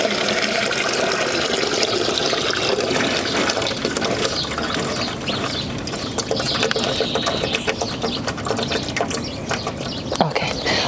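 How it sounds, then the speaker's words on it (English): Rainwater pours out of a garden plant container, a steady splashing gush that runs for several seconds with small clattering sounds and no talk. "I just wanted to firstly make sure that I get the water out of the container so we don't have root rot issues."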